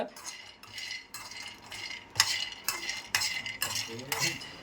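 A spoon scrapes and stirs peanuts roasting dry in a pan, a series of about eight rhythmic scraping strokes, close and moderately loud, with no talking.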